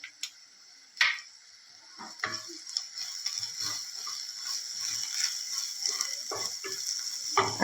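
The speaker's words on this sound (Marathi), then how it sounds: "कांदा आपण तांबूस कलर येईपर्यंत भाजून घेऊया." Onion frying in a pan until browned gives a steady soft sizzle, with intermittent clicks and scrapes of stirring on top.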